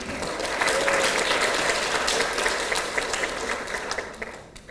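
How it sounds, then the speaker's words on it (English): Guests at a wedding reception give a sustained round of applause, dense and even throughout before tapering off at the end. "Round of applause for them, please."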